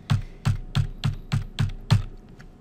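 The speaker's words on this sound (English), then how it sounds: "I want you to do control down arrow 10 times." A computer keyboard pressed in a steady series of seven evenly spaced key taps, each about half a second apart, close and clear with no voice over them.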